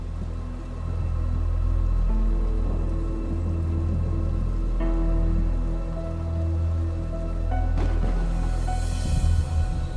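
Steady rain falls continuously with low rumbling beneath, a brief sharper burst near the end, and no talking.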